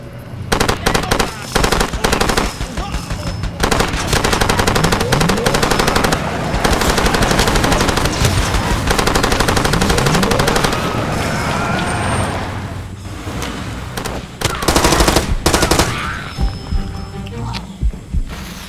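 Sustained bursts of rapid machine gun fire in the video game Far Cry 2 rattle on and off, loud and dense, with brief pauses and scattered louder booms.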